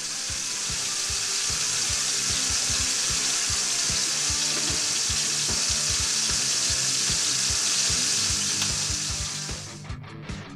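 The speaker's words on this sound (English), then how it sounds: "Then we'll set the ribs in the pan, and we'll want to braise all sides of the meat so that we seal in those delicious meat" Beef short ribs sear in a hot frying pan, giving a loud, continuous sizzle with crackling pops throughout, fading slightly at the very end.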